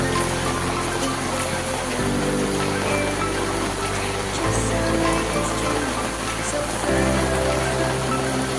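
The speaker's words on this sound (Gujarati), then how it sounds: "જોવો કેટલો બધો વરસાદ ચાલુ થઈ ગયો પાછા" Heavy monsoon rain pours down in a thick, constant patter close by, steady and loud from start to end with a low droning hum underneath.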